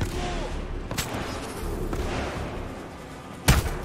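Gunfire in the video game Titanfall 2, a few sharp shots standing out over a dense background of game noise, the loudest burst near the end.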